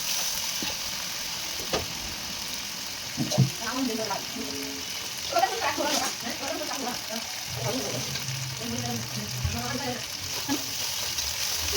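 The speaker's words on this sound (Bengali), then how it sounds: "এখন এখানে দিয়ে দেব আমি হলুদ, স্বাদ মতো নুন দিয়ে ভালো করে মশলাটাকে ফ্রাই করে নিতে হবে।" Spice paste with turmeric and salt frying in a pan for a banana stem curry, a continuous hiss of sizzling with stirring scrapes, while a voice talks through much of it.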